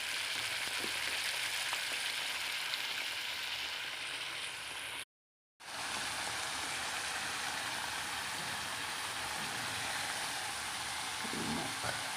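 Fish frying in hot oil for a fish curry, a steady, loud broadband sizzle throughout with a brief cut to silence partway, no talking.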